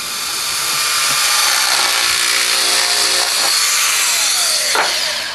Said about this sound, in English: All we got to do is cut some metal that looks like this